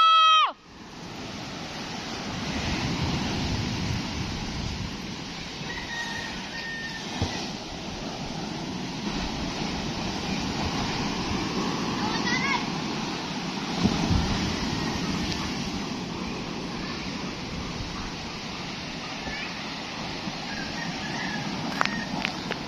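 Continuous roar of heavy surf and large waves breaking on shore with wind, steady and loud throughout with occasional surges, no voices.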